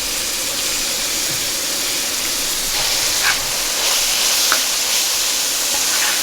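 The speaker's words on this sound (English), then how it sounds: "I'm adding the peppers." Peppers sizzle with beef on a Skottle griddle outdoors, a steady, close hiss that runs unbroken throughout with a few faint clicks.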